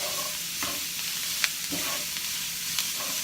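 Onions, celery and red and green peppers fry in a pot, with a quiet steady sizzle broken by a few scraping stirs of a utensil.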